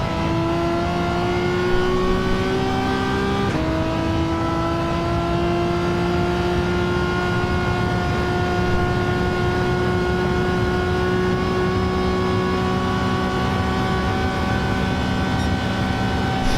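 Race car engines scream steadily in the racing game, one high-revving motor holding a sustained whine that drops sharply as it shifts gear, then climbs again, loud and continuous with no talk.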